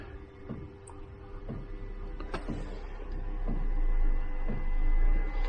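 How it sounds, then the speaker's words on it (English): A power inverter in a camper hums steadily after being switched on, a low electrical drone that grows slightly louder, with a faint repeating tapping and ticking underneath. "That's just the inverter on, and now it's pulling 2 watts."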